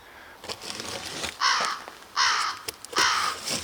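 A crow caws three times, loud and fairly near, each harsh call spaced about a second apart, with faint outdoor background between them.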